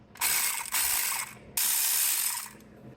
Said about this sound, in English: And as I take this last bolt out